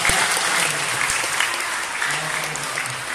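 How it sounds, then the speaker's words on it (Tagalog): A crowd applauding continuously, bright dense clapping with a faint voice or tone underneath near the end. "Palakpak tayo. Palakpak."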